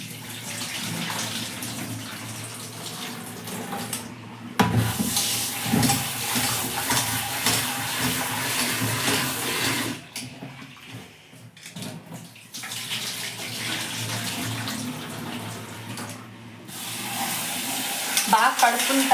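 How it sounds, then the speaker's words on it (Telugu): Cut potatoes for homemade French fries being washed twice in water, with continuous close swishing and splashing broken by a few short pauses, and brief speech in places. "బాగా 2 సార్లు వాష్ చేయండి ఫ్రెండ్స్."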